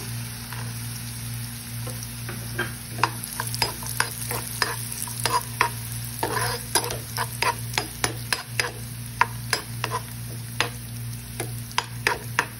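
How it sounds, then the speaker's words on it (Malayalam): Raisins frying in ghee while being stirred, a steady close sizzle broken by frequent sharp spoon scrapes and clicks against the pan, with no voices. "ഇനി നമുക്ക് ഉണക്കമുന്തിരി ഇട്ട് കൊടുക്കാം. നമുക്ക് 1 സ്പൂൺ കൂടെ നെയ്യിന്റെ ആവശ്യമുണ്ടെങ്കിൽ അതും കൂടി ഇട്ട് കൊടുക്കാവുന്നതാണ്"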